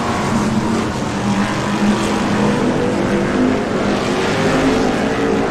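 BriSCA Formula 1 stock cars race on a Northampton oval, engines roaring steadily and loudly as a pack thunders down the far side, a continuous dense drone with no gaps.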